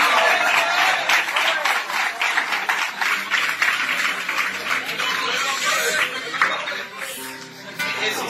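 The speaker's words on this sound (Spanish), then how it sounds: "Fuerte aplauso para el fabricante de Pandora" A Christmas comedy audience at a peña gives loud, steady applause that fills the room for several seconds, with some crowd noise and scattered voices mixed in.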